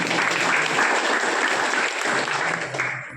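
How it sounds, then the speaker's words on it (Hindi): Audience at a family security and Diamond Royalty income gathering gives the uplines loud, sustained applause, a dense wash of clapping that runs steadily and fades slightly at the end. "मैं चाहूँगा हमारे अपलाइनों के लिए एक जोरदार और धमाकेदार ताली होनी चाहिए।"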